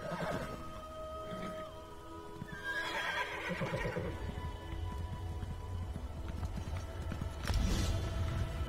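A horse whinnies in Elder Scrolls Online, with clip-clop hoofbeats and a patter like rain around it, and a second louder neigh bursts out near the end.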